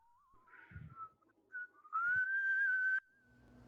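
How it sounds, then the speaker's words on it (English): A person whistles with pursed lips, a few short wavering notes and then a long steady sustained tone, close and clear in a quiet room, with faint low thumps between phrases. "Let's learn to whistle."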